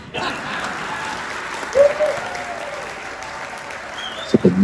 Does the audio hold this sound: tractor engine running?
no